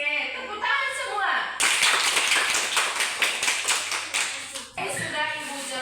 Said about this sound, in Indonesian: Oke, tepuk tangan semua.